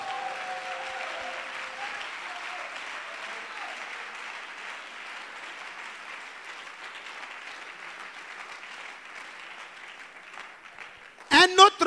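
A church congregation applauds and cheers in acclaim of the Lord, a steady broad wash of clapping and crowd noise sustained for the whole stretch, with a sharper burst of sound at the very end.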